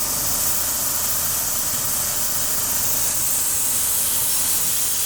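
A steam engine running at a steam-up event, a loud continuous hiss with a low mechanical rumble underneath, steady and close throughout, with no talking.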